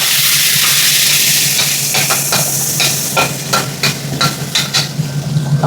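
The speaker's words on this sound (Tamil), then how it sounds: "இப்போது இது கூடவே நம்ம அரைச்சி வச்ச பேஸ்ட்டை சேர்த்திப்போம்" Ground curry leaf paste hits hot sesame oil alongside dried red chillies, giving a loud, steady sizzle broken by sharp clicks and scrapes of a spoon stirring in the pan, with no talk.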